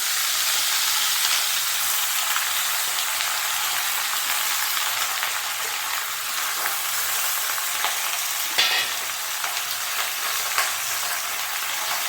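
Red Malabar spinach (pui shak) sizzles and fries steadily in a hot pan, a loud, continuous crackling hiss with a brief sharper spatter partway through and no voices.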